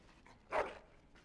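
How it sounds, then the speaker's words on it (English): A dog in the game Dragon Age: Origins lets out a single short whimpering bark, brief and moderately close, with no talk over it. "Bloody dog."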